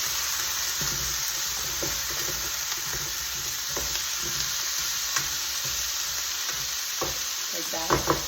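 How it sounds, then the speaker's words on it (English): Brussels sprouts sizzle steadily in a hot pan while being stirred, with scraping and clinking of the utensil rising toward the end. "I'm gonna add these Brussels sprouts. I'm gonna mix all this."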